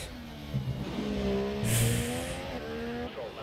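Formula One race car engine in F1 2017 on the Baku street circuit, a steady high whine climbing and shifting through gears over about three seconds, with a brief airy rush midway.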